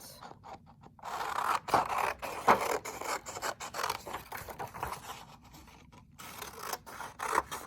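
Scissors cut out a paper wallet template, giving a run of crisp snipping and rasping strokes that come close and fairly loud over about eight seconds, with brief pauses between cuts and no talk.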